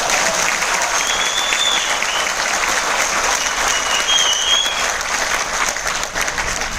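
Sustained audience applause at a training event in Mumbai, a thick wash of many hands clapping at an even level throughout, loud and near, with no voices standing out.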